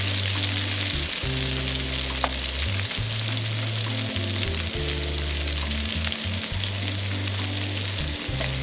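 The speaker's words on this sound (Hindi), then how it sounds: "इसको मैं फ्राई कर रही हूँ" Sliced okra fries steadily in hot oil, a continuous close sizzle and crackle with a low rhythmic hum running underneath; no one speaks.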